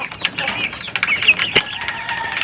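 Free-range chickens on a farm, with several hens clucking and squawking close by in short, irregular calls, plus brief wing flaps and light outdoor background.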